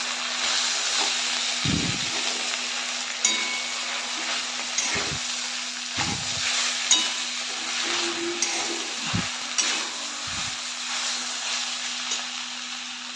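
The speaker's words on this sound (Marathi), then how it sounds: "आता हे तुपामध्ये चांगलं परतून घ्यायचं आहे" Grated potato and peanuts sautéing in ghee, a steady close sizzle interrupted by repeated scrapes and thumps of a spoon stirring in the pan, with a faint low hum underneath and no voices.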